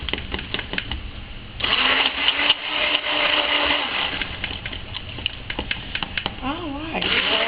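A stick blender whirs steadily through soap batter tinted with activated charcoal and black pearl mica for a silk soap, a few seconds of sustained buzzing set between quieter handling noises and brief talk.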